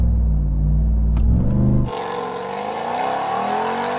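A Hennessey Mammoth truck launches hard with traction control off, its heavy engine rumbling loud before a sharp gear change drops into a rising, roaring pull.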